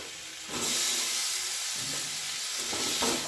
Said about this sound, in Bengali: দিয়ে মশলাটাকে খুব ভালো করে আমি কষিয়ে নেবো